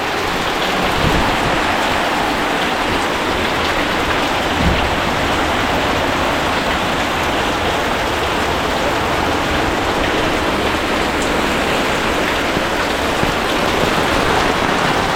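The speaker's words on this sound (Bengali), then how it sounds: "চরম লেভেলের বৃষ্টি হচ্ছে প্রচুর।" Heavy morning rain pouring down outside a house during a storm, a dense, steady, loud roar of drops on surfaces that stays unbroken throughout, with no voices.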